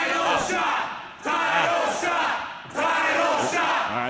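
A wrestling crowd at a live event chants a two-beat phrase in unison, loud and near, three rising swells that fade between repetitions.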